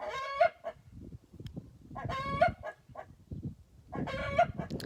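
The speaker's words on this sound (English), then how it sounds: "with this group of hens and the one rooster" A rooster crows three times at steady intervals, with a group of hens clucking quietly underneath between the calls.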